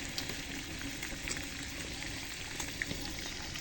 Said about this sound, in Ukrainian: Погнали, обсмажуємо до червоного.